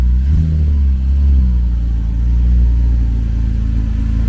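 A 2006 Porsche Cayman, lowered, revs its engine as it pulls away uphill, a loud close deep engine drone that rises and holds steady throughout without talk.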